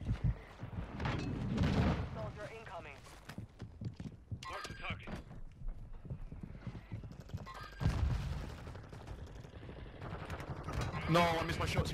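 Gunfire in Warzone 2 Resurgence, several sharp bursts of shots cutting through busy in-game noise while a player keeps talking over the action.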